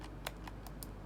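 A faulty Razer computer mouse clicking, five or six faint, light, quick clicks spaced irregularly over a soft background hiss.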